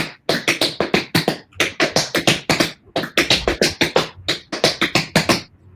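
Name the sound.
tap dance double time step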